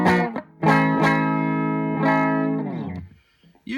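Electric guitar played through a Boss EQ20 pedal set to a mid-boost curve, giving a distorted, boxy tone: several strummed chords and sustained notes ring loudly, then fade to near silence.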